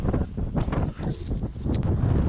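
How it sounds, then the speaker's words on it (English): Strong, brutal wind on a mountain roaring steadily against the microphone as a loud, continuous buffeting rumble with gusty swells. "This wind is brutal."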